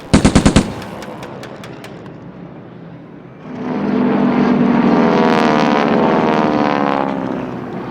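Machine gun fire at a Pearl Harbor attack reenactment comes as a quick loud burst of about five shots with some follow-up pops. A low aircraft engine drone then rises and holds steady.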